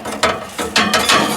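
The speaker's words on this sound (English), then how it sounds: "I just gave it a cranking as if I was wanting to try to start it." A Ford 9N tractor engine is hand-cranked with a metal bar, giving a short series of three or four close ratcheting, mechanical clicks over about a second and a half.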